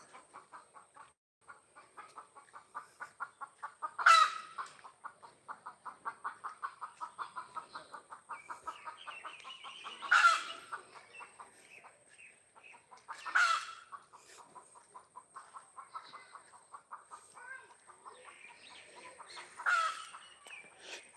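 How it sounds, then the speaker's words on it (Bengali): Chickens of the large Barishal breed cluck steadily in a rhythmic series, with several louder squawks rising above at intervals, fairly close and with no talk. "মুরগিও লালন পালন করে বরিশালের মুরগিটা একটু বড় জাতের হয় ডিমও বেশি পারে"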